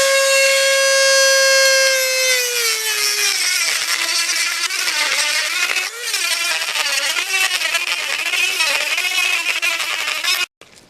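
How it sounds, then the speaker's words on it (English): Carbide cutter in a power tool at speed 4 grinding cast lettering off a Suzuki GS1100E motorcycle wheel rim, starting as a high whine that drops into a harsh, fluctuating close grinding screech before cutting off. "Carbide cutter, speed 4, should take it right down in a minute or so."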